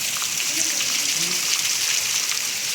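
Heavy rain pours in a dense, steady roar in the UAE during flooding, with faint voices murmuring beneath the downpour.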